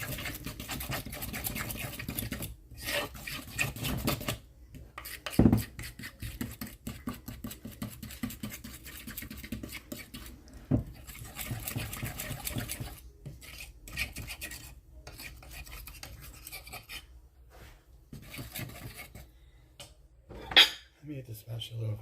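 Banana cake batter made from a cake mix and milk is stirred in a bowl, giving soft scraping and clinking of utensil against the dish in irregular bursts, fairly quiet and close.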